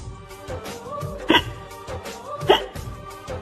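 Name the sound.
hiccups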